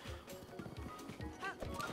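Horse from The Legend of Zelda: Breath of the Wild gives a quick run of hoof clip-clops with a brief whinny near the end, close and steady in the game audio.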